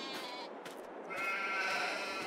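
Sheep bleat over and over in Farming Simulator 22, a close, steady run of overlapping calls from a flock that swells a little louder partway through, with no talking.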